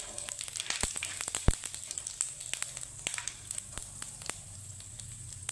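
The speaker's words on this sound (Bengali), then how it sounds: "5 ফোড়ন, তো 5 ফোড়নটাকে একটু হালকা ভেজে নেব।" Panch phoron spices fry lightly in oil with a quiet, busy crackle, scattered pops and sputters over a soft continuous hiss, nearby and with nobody speaking.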